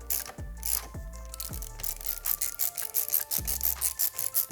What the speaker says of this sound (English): It's just a rotating ratchet.